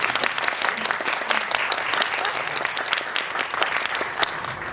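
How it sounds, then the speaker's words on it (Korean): An audience claps during a Korean film event, the applause busy and sustained with scattered sharp louder claps standing out, continuous throughout. "좀 잘 전달이 됐으면 큰 박수"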